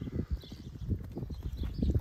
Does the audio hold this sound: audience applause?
no